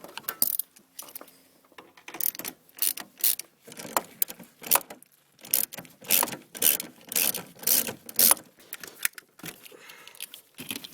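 Metallic clicks, ratcheting and rubbing come in short bursts as a clamp is loosened and removed at the intercooler of a 7.3L diesel engine, close up, with quiet gaps between the bursts.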